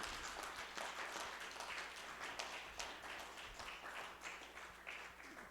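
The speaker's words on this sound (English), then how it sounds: "this crowd is going to give them a warm round of applause" A crowd's warm round of applause for a high school FIRST robotics team, steady close clapping throughout at an even level.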